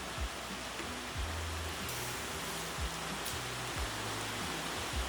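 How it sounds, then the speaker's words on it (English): Steady, dense rain pours down in a continuous hiss, with occasional heavier drips and low thumps beneath the wash of falling water. "The rain is coming down."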